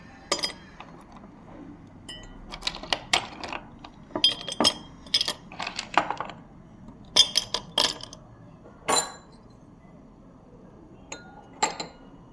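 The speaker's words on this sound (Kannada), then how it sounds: "ಐಸ್ ಕ್ಯೂಬ್ ಹಾಕ್ಕೊಳ್ತೀನಿ" Ice cubes drop into a glass one after another with sharp, bright clinks, scattered across several seconds against a quiet background.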